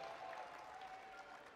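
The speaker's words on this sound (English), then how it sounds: "The crowd loves them, and as they should." A crowd cheers and applauds at an Apex Legends Global Series esports event in 2022, a continuous, even roar of clapping and voices, heard faintly and distantly.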